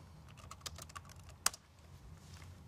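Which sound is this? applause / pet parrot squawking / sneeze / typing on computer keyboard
typing on computer keyboard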